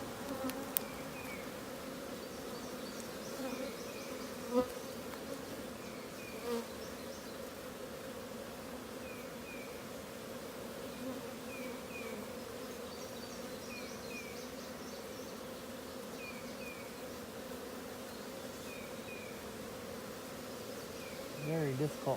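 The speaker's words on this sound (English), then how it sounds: "There's so many bees in there that hatched" Honey bees swarm inside a hive during a queen cage follow-up inspection, giving a dense, steady, close-up buzzing drone that lasts throughout, with faint chirpy tones and occasional handling knocks.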